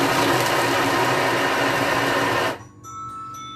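Food processor whirring loudly at speed 5 while crumbling celery and carrot for a salad, a steady motor roar for about two and a half seconds before cutting off abruptly.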